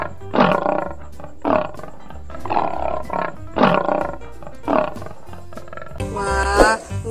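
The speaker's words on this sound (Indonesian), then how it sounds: "Ini ada 2 ekor harimau," Two tigers in the dinosaur park game Jurassic World Evolution 2 give deep, rumbling roars, five or six spaced calls close up, ending in a louder, longer growl.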